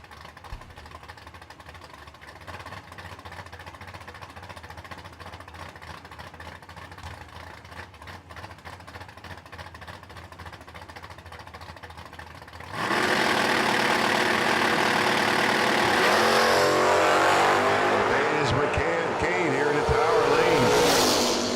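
A Mustang and a Nova idle at the line of a drag strip during an anniversary race weekend, then at launch both engines roar loudly and keep up a sustained, full-throttle howl, under an announcer's voice.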